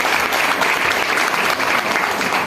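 Audience of women applauding together, a dense, even burst of clapping that stays loud and steady throughout.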